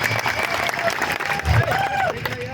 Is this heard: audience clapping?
yes